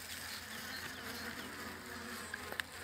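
Honey bees hum at a hive fitted with a syrup feeder on a cold winter day, a continuous close buzzing with brief louder passes near the end.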